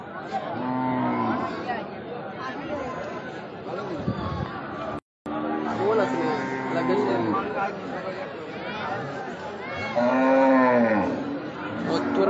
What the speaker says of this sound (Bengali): মধ্যপুর বাজারের বড় গরু